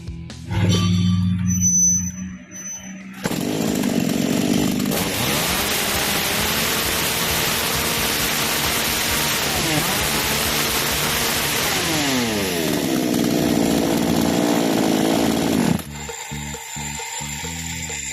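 A Black Bull gasoline chainsaw engine catches after a brief pull, then runs loud and close with a buzzing idle and a few rising throttle revs before cutting off.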